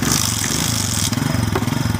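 A kick-started motorcycle engine catches and runs with a steady, close, low-pitched putter, loud and continuous with no talk over it.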